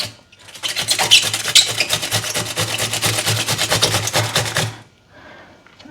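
Bitter gourd being grated on a hand grater, a rapid rhythmic rasping scrape held steady for about four seconds close up, then stopping, with no talking.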